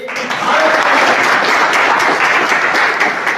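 A large audience at a wellness company seminar breaks into loud, continuous applause, a thick wash of clapping with faint voices and cheers beneath it.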